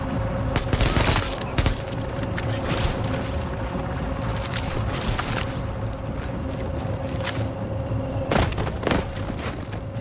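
Dense, continuous rapid gunfire from an in-game firefight against an enemy sniper in the video game The Division, with sharp shot transients and booms over a steady loud mechanical bed throughout.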